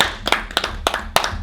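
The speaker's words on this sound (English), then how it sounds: "Let's clap it up." A few pairs of hands clapping in a loose, uneven rhythm, about five sharp close claps over a low background hum.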